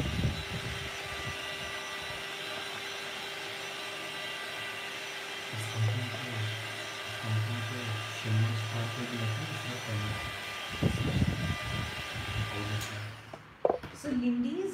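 A hair dryer blows steadily across a fresh layer of paint, a continuous airy whir that runs the whole time while a person talks over it.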